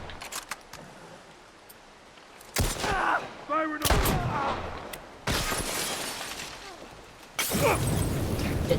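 Rifle gunfire in The Last of Us Part I cracks out in several loud, sharp bursts separated by quieter gaps, with metallic clinks and rattles between shots and brief talk underneath.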